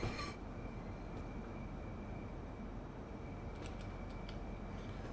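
A Class 395 Javelin high-speed train in Train Sim World 2 at St. Pancras in London, heard as a low, steady rumble with a faint high whine and a few light clicks, no talk.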